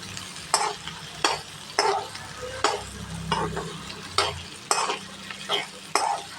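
Ridge gourd pieces sautéing in oil in a pan, a steady sizzle broken by regular loud scraping strokes of a spatula stirring about twice a second, close by and with no voices.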